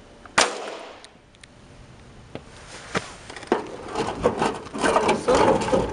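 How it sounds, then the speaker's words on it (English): An airsoft gun fires at a can in scattered sharp cracks and ticks, several short isolated shots over light outdoor background noise. "Shooting a can."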